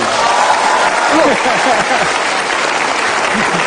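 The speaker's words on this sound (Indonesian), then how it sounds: "kenapa tepuk tangan riuh rendah?" Loud applause fills a room at an Indonesian gathering, continuous dense clapping mixed with a crowd voice or two rising over it.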